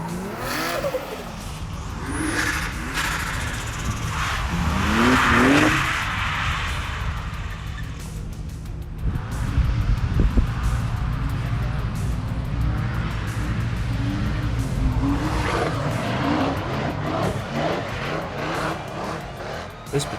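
Drift cars, including a red BMW E46, slide around a track, with engines roaring and revving and tires squealing as they pass, heard from trackside at moderate distance.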